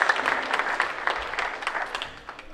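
An audience claps in a full round of applause after a motivational talk at a natural health event, dense and steady throughout, tapering slightly near the end.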